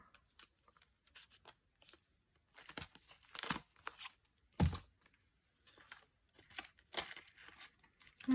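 Coins clink and rattle in scattered bursts as they are handled and taken from budget envelopes, mixed with paper rustling, fairly faint and close, with long quiet gaps between the sounds.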